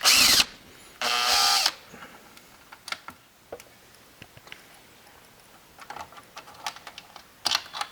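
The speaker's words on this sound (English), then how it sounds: "Unscrew the wire bracket." A Gene Cafe CBR-101 coffee roaster's wire bracket being unscrewed, opening with two loud, sustained bursts of a small power screwdriver, then a run of light clicks and ticks of screws and metal parts close up.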